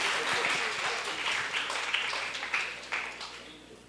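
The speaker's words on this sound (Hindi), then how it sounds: "तालियां बजाइए।" Audience applause at a student poetry couplet competition in Aurangabad, a continuous wash of clapping from a crowd that gradually tapers, with a few sharper claps near the end.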